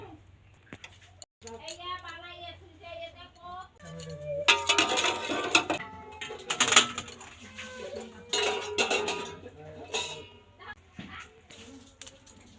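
Pot of boiled eggs lifted off the stove, with clattering metal clinks and knocks of pot and utensils close by, mixed with someone talking and a voice.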